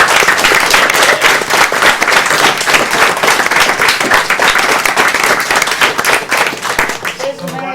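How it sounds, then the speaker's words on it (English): Live audience at a video game speedrun marathon breaking into sustained applause, dense clapping filling the room at a constant level and fading slightly at the end. "Everyone should give a big round of applause for Cool Maddie."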